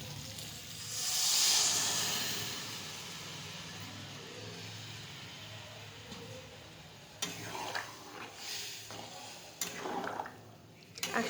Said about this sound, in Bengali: আমার আচারটা এরকম ফুটছে